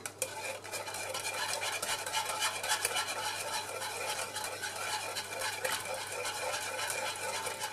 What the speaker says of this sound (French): je vais mettre mon beurre avec mon citron. Je vais bien l'incorporer, bien le laisser fondre.